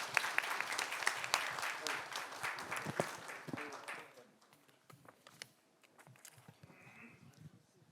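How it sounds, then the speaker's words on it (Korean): Audience clapping to close the 4th forum on high-level radioactive waste safety management technology: a dense round of applause in a hall that fades after about four seconds, leaving a few scattered claps and faint room noise. "마지막으로 준비해 주신 여러분들께도 큰 박수"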